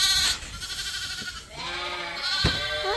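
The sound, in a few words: sheep lamb bleating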